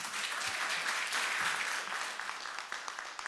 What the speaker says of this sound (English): Big round of applause for Kate Dickens.